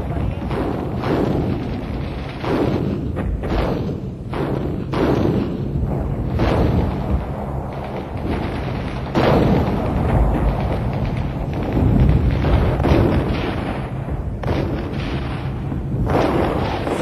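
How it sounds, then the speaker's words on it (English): Artillery from the 1967 Six-Day War shells Syrian strongpoints, heard as continuous heavy rumbling with repeated booms and blasts throughout, dense and loud on an old archival recording. "From the rear, Israeli artillery shelled the most stubborn Syrian strongpoints with pinpoint accuracy."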